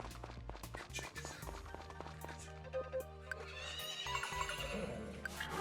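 A horse in the farming game Friends of Mineral Town gives a shrill, wavering whinny over looping game music and rhythmic clip-clop steps, with faint talking mixed in.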